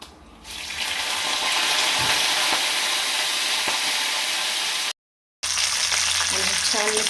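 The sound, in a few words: mustard seeds, red chili and curry leaves sizzling in oil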